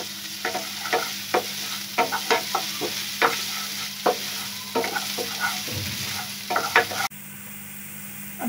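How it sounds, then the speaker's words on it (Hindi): Chopped garlic sizzles in a hot pan while a spoon scrapes and stirs it in steady rhythmic strokes, a loud close frying hiss with repeated clacks that quiets abruptly near the end. "ये देखिए फाइनली चॉप कर लिया हमने, ये भी डाल देंगे। इसको थोड़ी देर पकाएंगे।"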